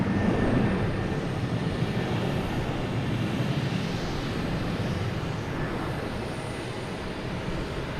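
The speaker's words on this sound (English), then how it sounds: "Embraer 175. This thing is very loud." An Embraer 175 jet passes near Logan Airport, its engines producing a loud, broad roar that swells early and then holds steady while slowly easing off, with no voices.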